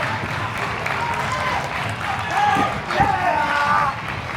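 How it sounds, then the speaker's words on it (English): A raucous, hostile wrestling crowd in Bristol at the King's Oak Academy fills the hall with shouting and whistles, a continuous din that surges louder midway with sharp cheers and yells. "Always a raucous crowd here at the King's Oak Academy"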